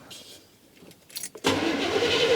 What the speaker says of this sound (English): I'm going to spin it over and see if there's any spark on that plug wire.